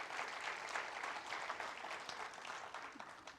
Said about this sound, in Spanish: ¿Cuántos dan un fuerte aplauso al Señor por eso?